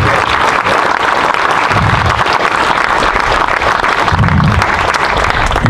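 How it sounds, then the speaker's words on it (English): Sustained applause from a crowd at a Veterans Day celebration, steady and dense throughout, clapping that fills the room without pause. "Let's give him a round of applause."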